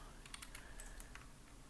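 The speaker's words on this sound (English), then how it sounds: "hold control and upper arrow button on the keyboard" Computer keyboard keys tapped several times in a quick irregular series, faint and close, in a quiet room with no talking.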